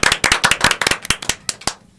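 Elementary schoolchildren at a school PTA gathering clap in a burst of crisp, close handclaps. The claps are bright and snappy, then thin out into a few scattered ones before stopping.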